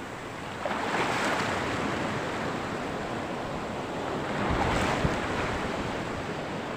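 Strong sea waves surge and crash continuously during a fishing tournament off Libertad, Misamis Oriental, with heavy wind rushing over the microphone and a bigger swell building near the end.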